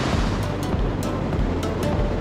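A stream in Munnar, Kerala, pours over a small dam, giving a loud, steady rushing roar of water, close by, with some wind buffeting the microphone and no talk.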